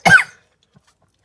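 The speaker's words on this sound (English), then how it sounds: "He would then feel a coughing storm in his stomach starting to, you know, like, creep up" A single short cough from an animated ninja character, one sharp burst followed by near silence and a faint trailing breath.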